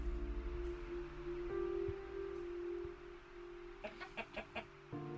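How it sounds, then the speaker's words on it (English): Chickens cluck in the survival video game Miscreated, a few short rhythmic clucks near the end over a steady low ambient hum and soft rustling, fairly faint, with no talk. "Yeah, there's chickens there."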